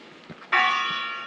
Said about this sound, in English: I think it's got a crack in it,